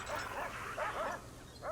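Guard dog units in the Prison Architect video game bark and yip in quick repeated bursts, a busy run of game dog sounds with no talk over them.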